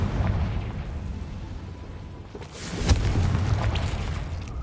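A Confringo spell explosion in Hogwarts Legacy bursts with a sharp boom and rumble amid steady game ambience, followed by a sustained roar.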